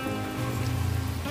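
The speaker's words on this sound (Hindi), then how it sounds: "अभी देखो फिलहाल यहाँ पर बारिश हो गया" Steady rain pours down around a roadside shop during a motorbike ride in Doomdooma, a dense, even hiss of drops hitting surfaces with no talking.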